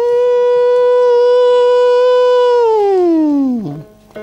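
A singer imitates a siren on a sustained NG hum as a vocal warm-up, holding one steady pitch before sliding smoothly down, loud and close with no other sound.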